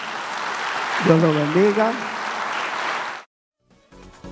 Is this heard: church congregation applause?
yes